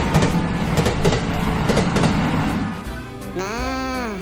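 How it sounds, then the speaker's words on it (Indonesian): An LRT light rail train runs while heard from inside the carriage, with a steady rumble and rattle. Near the end, a rising and falling tonal whine sweeps through as the train changes speed. "Beginilah situasi, kondisi, serta keadaan di dalam LRT."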